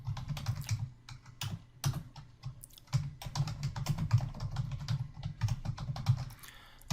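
A Linux user types on a computer keyboard while editing a file in vi, dense rapid key clicks in close, continuous runs broken by brief pauses, no speech.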